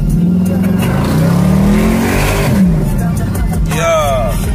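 Two G-Body cars in a friendly race, one turbocharged and one naturally aspirated, roar loudly and steadily up close, the engine note climbing in pitch as they accelerate, with a sharp whining rise near the end.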